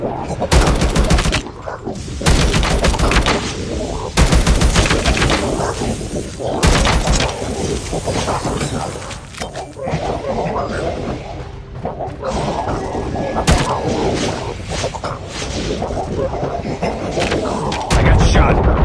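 Loud, repeated gunfire bursts and booms fill a zombie-mode match in Call of Duty Mobile, rapid volleys recurring throughout with brief lulls, mixed with crashes and in-game voice chatter.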